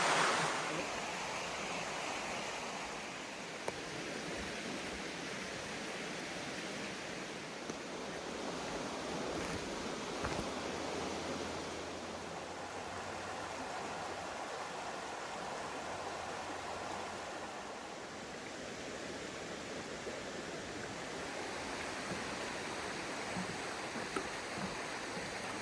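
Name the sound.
creek water flowing, Benner Run into Black Moshannon Creek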